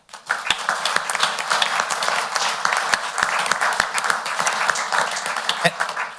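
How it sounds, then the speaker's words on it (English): Steady applause from the audience at a county council meeting, honoring newly elected and re-elected officials, with dense clapping and a few sharper individual claps that carry on for several seconds. "Let's give them a round of applause for their re-election or election."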